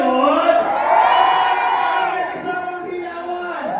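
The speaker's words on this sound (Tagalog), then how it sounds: "Kasamang hiyawan!" A lively crowd at a Philippine pageant-style comedy show, cheering, whooping and shouting together in a loud, sustained roar that fades slightly toward the end.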